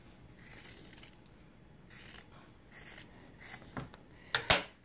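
Scissors cutting through quilting fabric between two marked lines, a soft quiet rasping snip that builds to a couple of sharper closing clicks at the end, alone with no talk.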